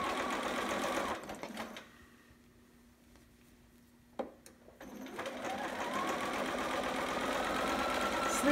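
Close, steady whir of a sewing machine stitching fabric for a garment, running continuously, pausing briefly in the middle with a small click, then resuming at full speed.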